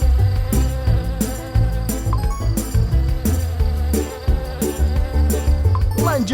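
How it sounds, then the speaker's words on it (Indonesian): Honeybees collecting nectar, a continuous insect buzz over dense layered background sound, loud and steady throughout. "Para lebah kita mengumpulkan nektar."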